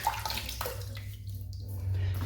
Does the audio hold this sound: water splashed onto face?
yes